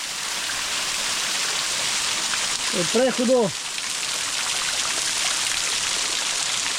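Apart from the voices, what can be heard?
hot spring water flowing over travertine, Georgia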